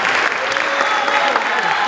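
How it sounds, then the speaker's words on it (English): Brief burst of audience applause at an 8th grade graduation ceremony for award recipients, dense clapping with voices talking through it. "Let's give them a round of applause."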